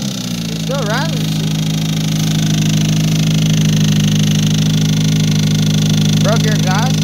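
A 20v engine with a spun bearing, broken motor mount and broken muffler idles loudly and steadily up close, a constant low droning hum, while people talk over it.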